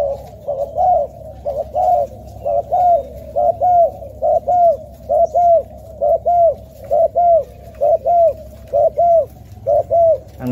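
A pigeon or dove coos loudly and close by in a steady repeating series of about a dozen evenly spaced coos over a quiet background, with no talking.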